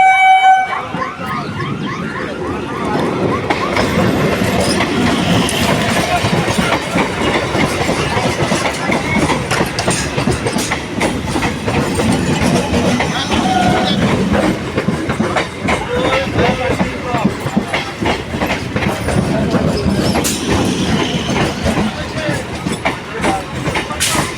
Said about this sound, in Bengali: তোমরা দেখতেই পেয়ে গেছো স্টেশনে ট্রেন ঢুকছে